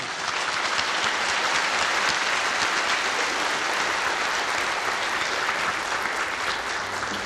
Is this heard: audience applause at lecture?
yes